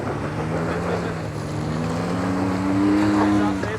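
A 2023 Jeep Gladiator Rubicon engine labors steadily on a mountain off-road climb, a continuous low drone whose pitch rises slightly toward the end, with no talk over it.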